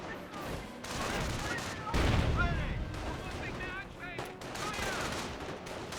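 Rifle fire crackles in a Company of Heroes battle, scattered shots and bursts mixed with heavier booms and battlefield clutter at moderate distance, with a commentator's voice over the combat.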